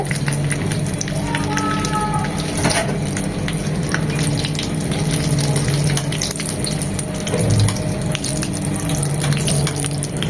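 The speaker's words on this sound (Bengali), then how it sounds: "এভাবে উল্টিয়ে পাল্টিয়ে কালার আসা পর্যন্ত ভেজে নেব" Chicken buns deep-frying in oil on a gas stove give off a steady, dense sizzle that runs unbroken throughout, with faint background noises and a low hum underneath.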